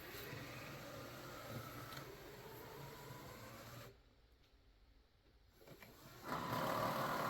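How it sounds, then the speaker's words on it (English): A steady mechanical whirring and churning of a Roborock S7 Max Ultra robot vacuum dock washing its mop, continuous for several seconds, then a brief quieter dip before it resumes louder. "So you can hear it washing the mop there"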